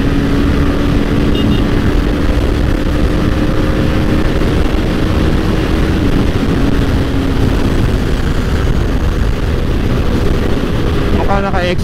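A Yamaha X-Max scooter rides along Route 711, heard as a loud, continuous engine drone mixed with heavy wind and road noise, steady throughout with a few faint clicks near the end.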